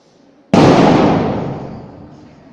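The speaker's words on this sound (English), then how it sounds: "That is the blasting." A single sharp blasting explosion played in a chemistry class, a sudden loud burst that decays slowly over about two seconds, heard alone.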